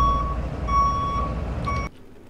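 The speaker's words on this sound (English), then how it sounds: "carefully look for every time I back up and add a little beep, beep, beep." A reversing-style beep sound effect edited into 7 Days to Die gameplay, three steady electronic beeps over a low engine rumble that cuts out abruptly.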